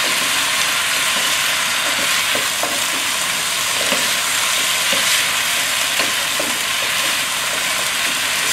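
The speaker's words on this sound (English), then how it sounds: "Black pepper. Give them a quick stir." Food sizzles steadily in a hot frying pan seasoned with black pepper, with soft scraping and clicking from stirring scattered through the continuous frying hiss, close and fairly loud.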